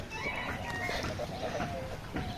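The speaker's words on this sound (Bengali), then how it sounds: "আবার সামনে হাঁস আছে" Domestic ducks or other fowl in a Bengali village, with low clucking and quacking calls scattered through a steady outdoor background, moderately close and fairly continuous.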